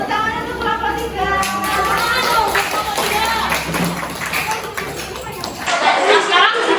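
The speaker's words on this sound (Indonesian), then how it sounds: "Tepuk tangan untuk kelompok 3." Elementary school classmates clap for a presenting group in a classroom, scattered, uneven handclaps and taps rising and falling close by, mixed with a teacher's voice and children talking throughout.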